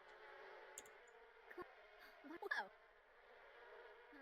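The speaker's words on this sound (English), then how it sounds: "Yep, those bees stung us." Insect buzzing from bees in The Sims 4 plays as a soft steady drone, with brief bright chirps and a short cluster of sharper game effects midway.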